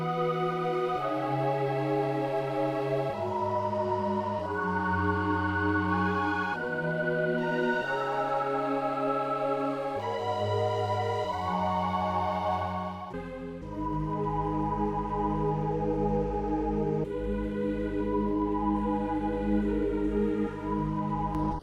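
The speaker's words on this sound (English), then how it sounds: "3 different pad one shots to create one crazy pad on top of a wavetable" A layered synth pad built in Pigments from three pad one-shots stacked over a low wavetable plays sustained chords that shift every couple of seconds, thick and evenly loud throughout.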